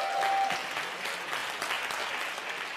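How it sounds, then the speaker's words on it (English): An audience applauds, with dense, sustained clapping from many hands filling the room evenly and loudly with no voices over it. "Yes, give them a round of applause."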